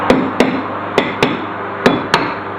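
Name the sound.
hammer whacks knocking rotor off Honda Civic hub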